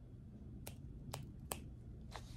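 One person snaps their fingers four times, the crisp sharp clicks coming at uneven intervals over a quiet low hum, with no talk.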